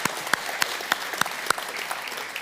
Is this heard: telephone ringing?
no